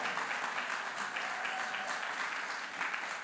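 Church congregation at a worship service applauding, a dense, steady wash of many hands clapping together at even loudness throughout.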